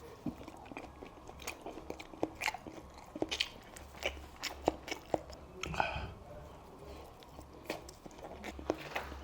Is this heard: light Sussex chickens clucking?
no